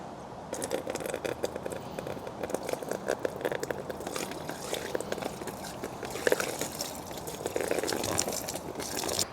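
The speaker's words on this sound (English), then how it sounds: "Let's go ahead and get this filled with water." Water pours from a hose into a cold plunge tub as it fills, a steady broadband rush with small splashy crackles running through the whole stretch, moderately close with no talk.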